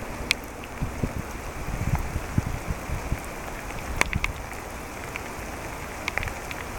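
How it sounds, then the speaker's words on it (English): Steady rain falls on the trees of a forest, a dense, even patter with scattered louder drips close by, and no voices are heard. "the sounds of the rain on different things, like walking through this forest right here"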